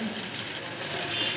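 A sewing machine stitching cloth gives a continuous fast mechanical whir and rattle at moderate level, steady over a brief stretch without a clear break.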